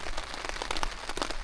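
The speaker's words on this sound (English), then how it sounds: "Have you heard that rain coming down? It's absolutely mental. Torrential rain." Torrential rain falling at a campsite, a dense patter of drops drumming on a nearby surface with sharp irregular hits, steady and close.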